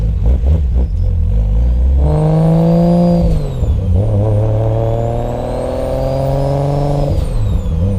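A Nissan Skyline drift car's engine revs hard and close, climbing to a loud sustained pitch, dipping briefly, then holding high again before dropping off, with no talking.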